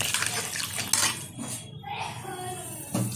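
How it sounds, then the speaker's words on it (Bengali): A spoon scrapes and knocks against a metal pot while stirring katla fish head curry with papaya, potato, water and chopped tomato, giving irregular clinks and a wet swirl, fairly close, with no talking. "ভালোভাবে নাড়িয়ে দিচ্ছি।"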